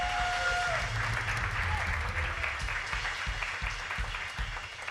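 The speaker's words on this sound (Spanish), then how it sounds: "Dale ese aplauso al Señor." Applause from a church congregation praising the Lord, a broad, sustained patter of many hands clapping at a steady level, with a brief tonal sound near the start.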